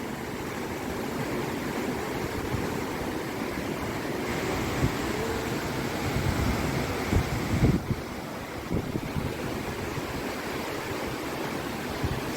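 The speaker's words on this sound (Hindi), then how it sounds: "ये देखिए कितना खतरनाक और रुद्र रूप है पानी का।" Floodwater in Assam rushes past in a dense, steady roar, loud and unbroken throughout, with no voices over it.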